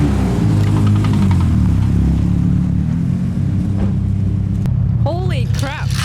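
An S15 drift car engine drones loud and close under a steady rumbling load, with people talking briefly near the end.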